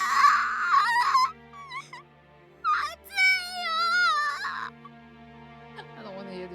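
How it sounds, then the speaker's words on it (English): Children wail and sob in the video game Virche Evermore, several high, wavering cries and moans rising and breaking in separate bursts against a quiet, low background hum. "I don't want to hear the children crying and screaming out again, please."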